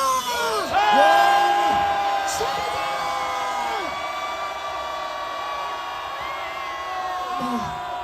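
A rally crowd at a street protest against impeachment cheers and shouts, a swelling roar of many voices with whoops, loud at first then settling into steady massed noise.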